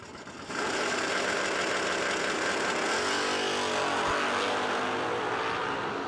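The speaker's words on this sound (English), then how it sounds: "Granny driving the Camaro" Drag race cars and karts at a no-delay drag racing event, a dense, loud engine roar bursting in after a brief quieter start and sustained at full throttle, with a distant crowd-like wash of noise throughout.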